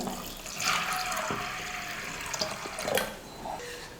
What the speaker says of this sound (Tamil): காராமணி வேகிறதுக்கு தண்ணி சேர்த்துக்கிறேன்.